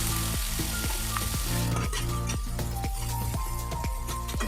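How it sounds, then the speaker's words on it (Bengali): Ground spice paste fries in hot oil for a fish bori curry, a loud, continuous sizzle close up with a regular rhythm of scraping stirs through the pan. "সব পেস্ট করা মশলাগুলো একসাথে ছিল, সেগুলো একটু কষে নিতে হবে।"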